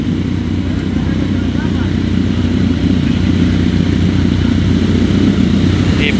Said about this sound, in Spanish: son cientos de motocicletas las que esta noche se han hecho presentes a este bonito evento